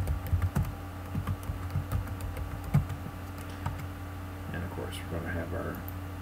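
Steady typing on a computer keyboard while filling out a table in Word 2013, a rapid run of close key clicks continuing under a voice talking throughout.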